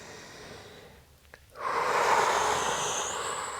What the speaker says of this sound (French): Respirez profondément.